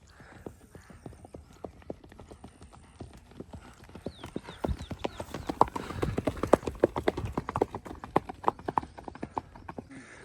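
Hooves of a pregnant mare clip-clopping in a steady quick rhythm, faint at first and growing louder and closer, with a few brief background sounds.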